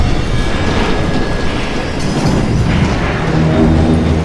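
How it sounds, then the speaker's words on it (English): A train in the western video game Call of Juarez: Gunslinger rumbles along in a loud, steady clatter with deep booming low end and a faint whistle-like tone early on. "It was then that Jesse detach the express car from the rest of the damn train"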